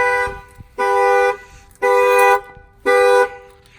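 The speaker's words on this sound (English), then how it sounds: "I'm going to go ahead and bang on the window." A Dodge Challenger's upgraded factory alarm, set off by a shock sensor when the window is banged, blasts three loud, evenly spaced horn honks, each about half a second long, close and with no voices.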